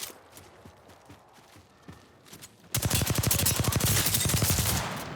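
Rifle gunfire from a video game firefight: sparse single shots at first, then a sudden sustained stretch of loud, rapid automatic fire lasting several seconds.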